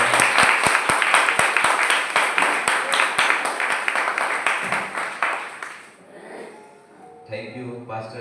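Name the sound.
congregation clapping hands in church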